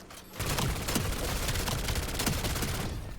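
Dense automatic gunfire erupts after a brief quiet start and hammers on continuously as zombies are shot in the Call of Duty zombies mode, loud and close with rapid overlapping shots.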